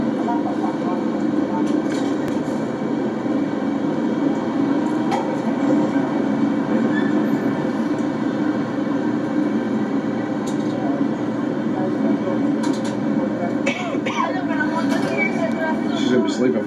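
A Disney World monorail ride, a steady loud rumbling hum of the moving train car with faint clicks and rattles, while people speak in the cabin.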